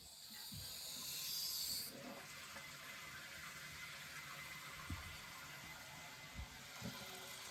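Steady hiss of water refilling a newly replaced toilet tank after the supply is turned back on, a brighter rush fading in the first seconds into a constant even flow with a few faint knocks.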